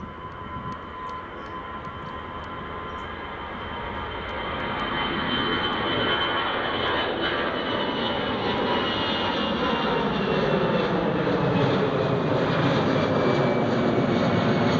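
An EasyJet airliner takes off at an airport, its jet engines roaring steadily and building in loudness as it climbs away, with no talk over it.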